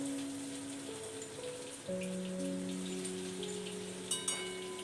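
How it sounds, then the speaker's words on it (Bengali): Crushed garlic and green chili fry in hot oil with a soft, steady rain-like sizzle, fairly quiet and continuous, with a faint tonal hum in the background and no talk. "রসুন এবং লঙ্কাটা খুব ভালো করে তেলের সাথে একটু ভেজে নিতে হবে"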